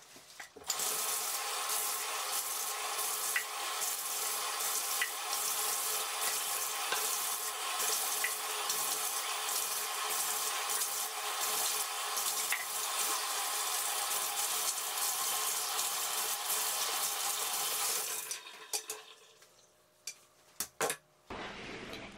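Water runs from a bathtub faucet while a cup is rinsed out beneath it, a steady close splashing rush with rubbing noises that stops near the end, leaving a few drips and clicks.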